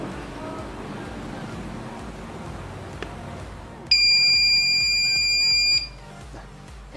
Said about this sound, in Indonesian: Yang suaranya itu hanya bip saja, dipanjang teman.